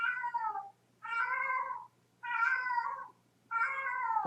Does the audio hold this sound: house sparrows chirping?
no